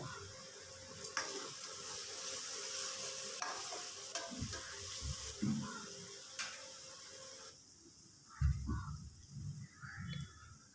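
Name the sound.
sautéing onions and green chillies in a pan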